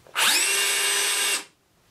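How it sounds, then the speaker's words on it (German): A Bosch UniversalHammer 18 V cordless rotary hammer spins in drill-only mode, hammer action off: one steady, close, loud motor whine of about a second that starts sharply and winds down at the end. "Ich lasse mal ohne Hammer laufen."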